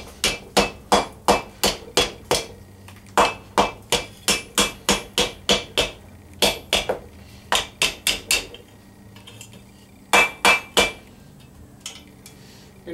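Wooden hammer striking metal as a Viking arm-band is shaped around an anvil horn: bursts of sharp, evenly spaced blows, several in quick series separated by short pauses, close and loud with no speech.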